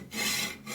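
Hand-sawing with a blade during a bike chopper repair and rebuild, two long steady rasping strokes, close and loud, with no talk.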